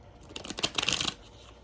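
Oracle cards being shuffled by hand: a brief run of soft, papery riffling and sliding strokes lasting about a second, close and fairly quiet, with no talking.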